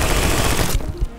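Rapid automatic gunfire from the video game My Friend Pedro, a dense loud burst of shots that cuts off abruptly, followed by a couple of scattered single shots.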